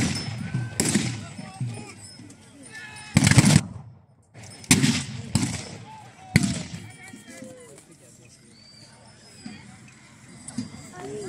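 Field cannons fire at a reenactment of the Battle of Tápióbicske, several loud booming shots spaced a second or more apart, with a commentator talking between and over them and outdoor crowd noise behind.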